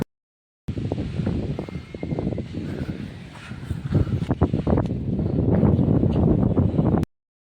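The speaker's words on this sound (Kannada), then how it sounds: "ಗಾಳಿ ಬರ್ತಾ ಇದೆ" Wind blowing outdoors near a hill temple at Badami, a rough, gusty rumble buffeting the microphone, rising toward the end before cutting off.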